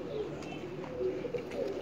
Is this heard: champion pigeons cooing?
yes